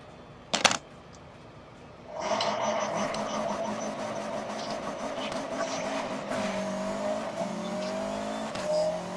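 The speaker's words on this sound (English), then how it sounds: "you guys can hear the stock turbo" A car engine in Need for Speed Most Wanted rises after a short click, droning steadily with stock turbo whine and shifting revs, fairly loud and continuous.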